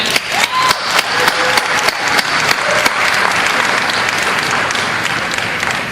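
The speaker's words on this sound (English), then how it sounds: "let's give a big round of applause for everybody who made this event happen" A crowd at Paulfest applauds the event organizers, with loud, dense clapping that opens with several sharp individual claps before settling into a sustained, even roar of hands.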